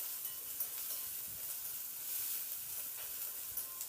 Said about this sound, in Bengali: পেঁয়াজটা দিয়ে মিনিট দু তিনেক মতো একটু নাড়াচাড়া করে হালকা বাদামি রং ধরা পর্যন্ত পেঁয়াজটাকে একটু ভেজে নেবো